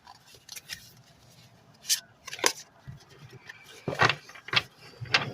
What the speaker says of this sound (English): So let me pull some cards here.